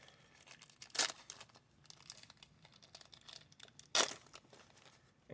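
A cellophane wrapper on a 1991 Fleer Ultra card pack is torn open in two sharp, crinkly rips about three seconds apart, close and quiet, with soft handling rustles between them.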